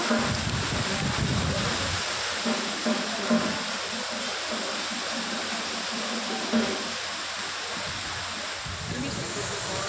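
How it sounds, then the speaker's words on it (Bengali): Heavy rain pours down with gusting wind as a storm breaks over a jungle road, a steady, dense roar of downpour filling the whole stretch with only slight swells in strength. "মুষলধারে বৃষ্টি, হাওয়া বাতাস, ও মাগো, ঝড় বৃষ্টি শুরু হয়ে গেল।"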